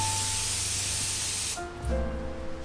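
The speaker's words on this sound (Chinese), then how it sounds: "喷一下真的很舒服耶" A facial mist spray hisses in one long burst, then stops, followed by a faint tonal hum.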